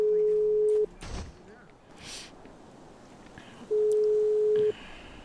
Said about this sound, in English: Hop on this phone call.